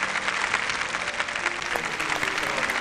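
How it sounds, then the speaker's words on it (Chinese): Studio audience at a televised startup pitch show clapping steadily, a moderately loud, even patter of many hands sustained throughout. "为你这种精神要鼓鼓掌"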